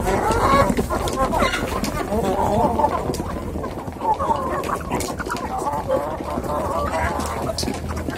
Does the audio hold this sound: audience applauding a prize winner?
no